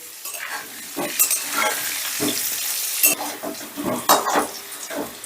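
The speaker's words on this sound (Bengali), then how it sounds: "নুন আর হলুদ দিয়ে আলুটাকে বেশ লাল লাল করে ভেজে নেব" Potatoes fry in a pan with salt and turmeric, a steady sizzle broken by repeated scraping stirs and metal utensil clinks against the pan, close and fairly loud, with no talk.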